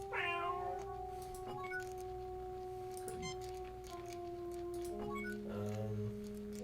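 A cat meows in the video game Star Trek: Judgement Rites, a short rising call heard over steady electronic game tones and music, clear but not loud.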